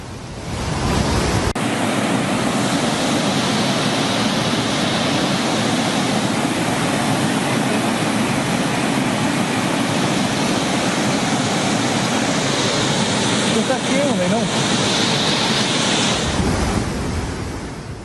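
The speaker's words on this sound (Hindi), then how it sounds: "जबरदस्त उफान पर है तीस्ता नदी।" Teesta river in flood, a loud, unbroken roar of rushing water that sounds like heavy surf, with wind buffeting the microphone, constant and close for the whole stretch with no talk.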